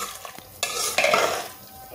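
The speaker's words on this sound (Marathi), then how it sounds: "एकदा हलवून घ्यायचं." Soya pulao rice with water and a spoon of ghee being stirred in a pressure cooker pot, a short burst of scraping and shuffling with a brief hiss, close and fairly loud.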